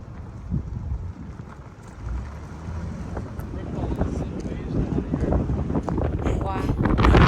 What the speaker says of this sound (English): It's a little windy up here.